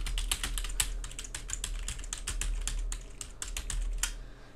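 Rapid, steady typing on a computer keyboard hooked up to an HDMI KVM switch, a dense run of close, crisp key clicks with no voices.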